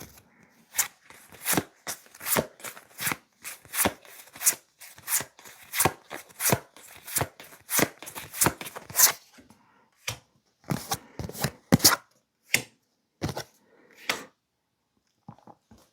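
Tarot cards are shuffled and drawn on a table, a run of crisp, rhythmic riffling snaps, close and distinct, slowing into sparser single flicks and taps near the end.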